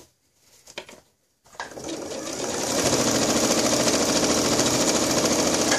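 A sewing machine stitching over elastic starts with a few short taps, then runs steadily in a loud, close, fast rhythmic whirring chatter that continues to the end, with no talk.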